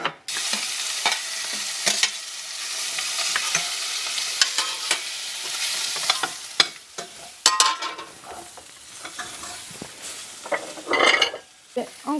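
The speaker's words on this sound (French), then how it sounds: "on va commencer par faire rissoler le seitan" Pieces of seitan browning in a hot pan, a steady close sizzle broken by frequent scrapes and clinks of a utensil stirring against the metal.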